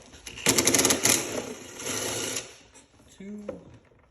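A power tool whirs in short bursts removing a throttle body bolt on a 2013 Chevy Malibu LTZ 2.5L, a close buzzing run followed by a softer one, with a voice at the end.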